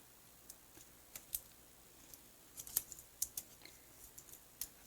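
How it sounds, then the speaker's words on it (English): Scissors snip through thin foam for a handmade birthday card, a sparse scatter of faint, crisp clicks and cuts spaced irregularly over quiet room tone. "Oh, these are not my good scissors."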